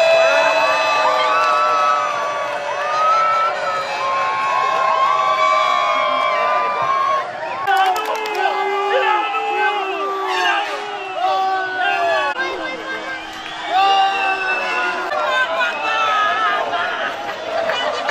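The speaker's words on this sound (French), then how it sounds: "Écoute derrière, écoute la foule." Large football crowd of Croatian supporters in a packed stadium during a match against Belgium, a sustained wall of cheering, whooping and chatter with rising shouts, loud and continuous throughout.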